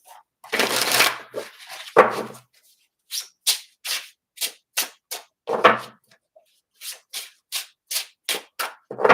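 A gold foil tarot deck being shuffled by hand, a long riffle and crunch at first, then a steady run of quick, crisp card slaps, close and fairly loud, with no voices.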